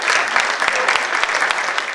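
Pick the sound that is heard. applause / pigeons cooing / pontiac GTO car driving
applause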